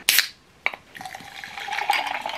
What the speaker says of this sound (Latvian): pirmais solis ir ieliet sev dzērienu. Šodien mēs dzersim boržomi.